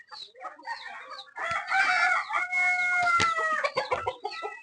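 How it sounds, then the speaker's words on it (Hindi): Desi chickens and a rooster on a village farm, clucking and calling close by, with a loud, long rooster crow in the middle and more clucks after it. "ये सब अलग अलग वैरायटीज के चिकन भी है यहाँ"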